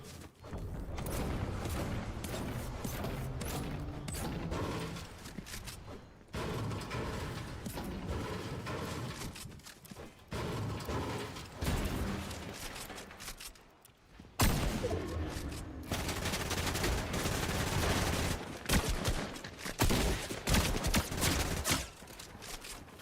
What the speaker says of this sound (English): It's just bullets flying everywhere